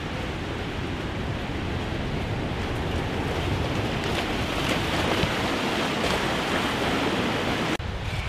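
Continuous ocean surf washes over a beach during Navy special operations selection training, a steady, loud roar of breaking water and wind noise with no voices rising above it.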